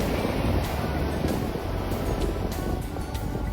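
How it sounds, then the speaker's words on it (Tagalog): Ocean waves rolling onto the shore at Seven Sisters near Eastbourne at high tide, a steady loud wash of surf and rumble with wind buffeting the microphone throughout, no voices. "The waves are waving!"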